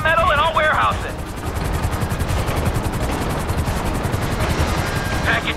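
Two helicopters approach a train in Grand Theft Auto 5, their rotors a rapid, even chopping that runs through the whole clip at close range, with short bursts of game sound at the start and end.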